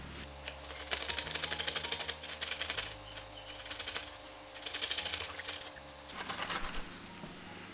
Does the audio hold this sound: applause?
no